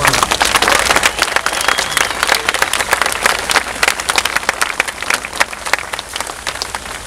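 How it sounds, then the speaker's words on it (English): A large crowd claps in a sustained round of applause at the outdoor homecoming celebration for the Norfolk and Western 611 steam locomotive, loud and steady throughout with a dense patter of hands. "So a round of applause for North Carolina."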